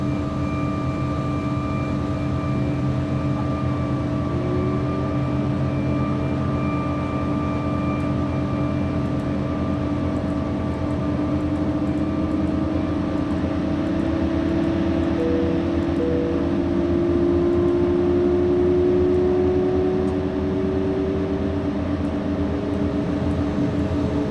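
Embraer ERJ jet engine spooling up in the X-Plane 11 flight simulator, a steady loud hum with tonal whines that rise gradually over the full span, heard alone without talk.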